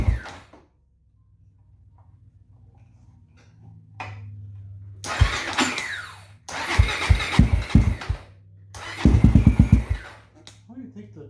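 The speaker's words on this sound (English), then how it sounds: "So it's starting right up with choke" A Honda 400EX ATV that sat unused for three years, started with the choke on: after a quiet stretch, the engine cranks and fires in several loud bursts that rev up, cut out, then catch again, close by.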